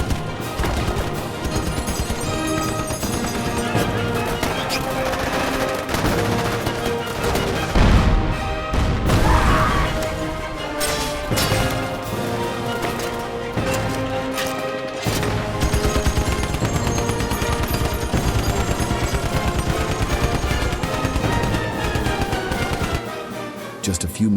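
Dense battle gunfire of the Normandy landings, with rapid rifle and machine-gun bursts, heavy booms and crashes rolling on loudly and continuously as a wall of combat noise.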